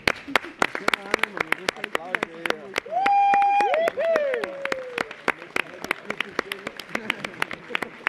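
An audience at a comedy awards ceremony applauds with crisp, regular claps, steady and fairly close, while voices call out and talk over the clapping midway.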